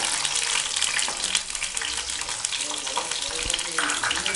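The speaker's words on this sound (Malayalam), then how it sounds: "വെളിച്ചെണ്ണയിലേക്ക് നമ്മൾ നടുവെ ചീന്തി വെച്ചിരിക്കുന്ന വെളുത്തുള്ളി, ഒരു 4 അല്ലി വെളുത്തുള്ളി ഇടും" Four split garlic cloves fry in hot coconut oil for a Malabar prawn curry, giving a dense, steady, close sizzle with a faint low knock near the end and no talking.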